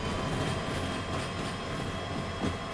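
A locomotive in Derail Valley rumbles and drones steadily as it accelerates, a dense continuous roar of engine and rolling stock with no voices.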